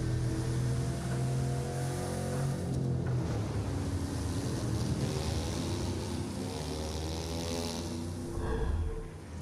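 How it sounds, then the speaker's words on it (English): A boat drives across open ocean waves in a video game trailer. Loud engine rumble, rushing water and wind run continuously, then fade near the end. "Tame, unpredictable waves on the open ocean, rapid waters, or narrow rivers."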